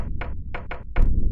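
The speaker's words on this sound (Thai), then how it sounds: "ใครเคาะ" Sharp, loud knocks on a hard surface, five of them in quick, uneven succession, close by with no voices, set in a spooky abandoned house during a Slender Man tale.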